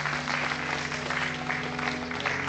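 An awards-ceremony audience applauding as a female singer walks up to present a prize: a dense, steady patter of many hands clapping throughout, with a low tonal hum running beneath it and no talking.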